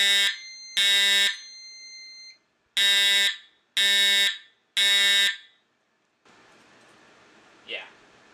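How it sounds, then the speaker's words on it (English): A 792 fire alarm horn, very loud and close, blasts in five separate harsh, buzzing bursts of about half a second to a second each, followed by faint rustling. "this one, which has a 792 horn, by the way, are very loud"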